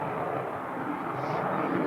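An F-14B Tomcat jet takes off at an airshow over Erie, a loud, steady, broadband engine roar with no breaks, filling the whole moment.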